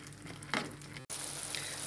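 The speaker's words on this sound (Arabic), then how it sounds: "كنحرك هادشي مزيان وكنخلي لاصوص ديالي تطيب" Béchamel sauce for a macaroni gratin is stirred as it cooks in a pan, a soft continuous bubbling sizzle with a brief scrape, cut by a momentary break, then resuming close and steady.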